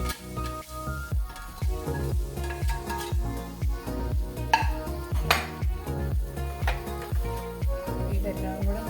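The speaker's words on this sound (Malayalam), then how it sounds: "ഇനി ഇതിനകത്തേക്ക് വറുത്ത് വെച്ചിരിക്കുന്ന മീനും കൂടെ നമുക്ക് ഇട്ട് കൊടുക്കാം" Fried fish is stirred into thick pickle masala in a pan, with a close, rhythmic scrape and squelch repeating about twice a second.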